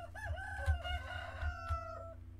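A rooster crows in the Medieval Dynasty video game, one drawn-out cock-a-doodle-doo rising and falling over a steady low hum of farmyard ambience, fairly close and clear with no talking.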